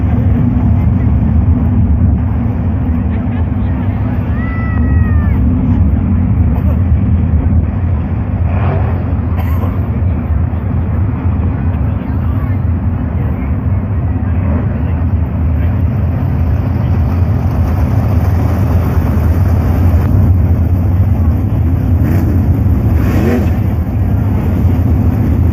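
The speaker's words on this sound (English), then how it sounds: "Here come the 410 Outlaw Sprint Cars at River City" 410 Outlaw Sprint Cars roar around a dirt oval at River Cities Speedway as a steady, loud, unbroken engine drone. An announcer talks over the noise.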